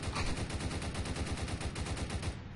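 Rapid automatic AK rifle fire in the Roblox game Prison Life, a loud, close, continuous stream of evenly spaced shots lasting a couple of seconds before cutting off.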